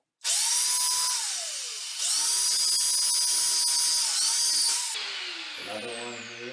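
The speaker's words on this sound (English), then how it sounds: "Okay, so we actually drilled 4 screws." Power drill whirring in three long bursts while screws are driven into a toilet flange raised above a tile floor, loud and close, each run winding down at the end, followed by a lower motor tone.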